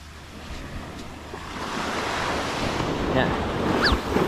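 Ocean waves wash onto a beach on Ko Adang island, Thailand, with a continuous surf roar that builds slightly over a few seconds, mixed with gusty wind buffeting the microphone.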